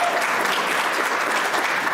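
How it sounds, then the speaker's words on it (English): Dense, steady clapping from an audience at a community iftar event, a continuous wash of applause throughout. "She gets claps before she even makes it up there."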